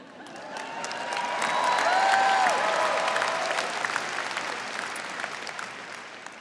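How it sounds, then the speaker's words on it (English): A graduation ceremony crowd at a university arts and sciences college breaks into applause with some cheering and whoops, swelling to a peak partway through and then fading. "I knew that would get some applause"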